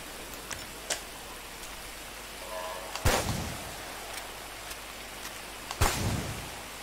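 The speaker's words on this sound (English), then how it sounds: "Getting desperate now. It's raining." Light rain hisses steadily in GTA V's wilderness, with two sharp loud cracks like thunder or impacts partway through and small ticks scattered across the background.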